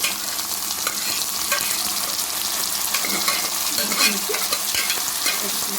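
Boiled broad bean pieces fry in a pan, a steady close sizzle with frequent scraping and tapping of a spatula as they are stirred, no voices.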